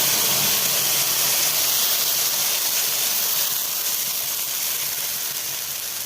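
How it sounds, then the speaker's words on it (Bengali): Spice paste fries in a pan with black cumin and a cut dried red chilli, making a loud, steady hissing sizzle that continues without a break and eases slightly toward the end. "পেস্ট করে রাখা মশলাটা দিয়ে দিচ্ছি।"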